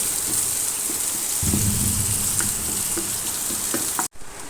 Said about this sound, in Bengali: দিয়ে আমি এটা হালকা লাল করে ভেজে নিব।